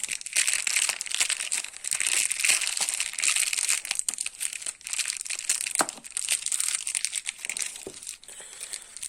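Cardboard box and plastic wrapping of four new Seat engine valves being opened, a continuous close crinkling and crumpling with a few sharper tearing accents, no talking.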